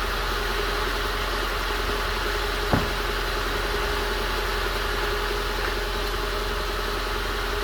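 A 1994 Nissan Hardbody D21 pickup truck engine idles steadily while warming up, a low, constant rumble, close and unbroken, with one brief click partway through.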